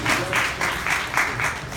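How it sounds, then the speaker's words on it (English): Applause from a live audience at a poetry performance, a steady crackle of clapping in soft pulsing waves, moderately near and carrying on alone without voices. "So clap it up for anyone who's doing that out there."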